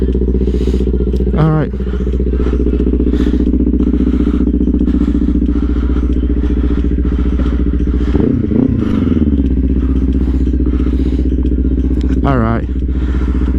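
A 2024 Kawasaki Ninja 500 KRT SE idles while warming up, a loud, steady low engine drone that runs throughout, close by, with someone speaking briefly over it.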